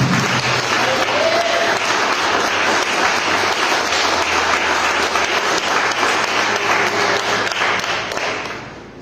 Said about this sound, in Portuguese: podemos aplaudir a palavra dele?